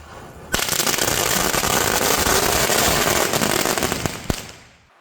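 A magical whip firecracker bursts in a loud, dense volley of rapid crackling pops that lasts about four seconds, then cuts off with a final snap.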